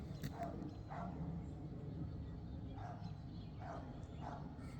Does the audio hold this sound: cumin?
no